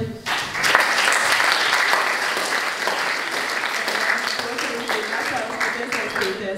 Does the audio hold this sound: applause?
yes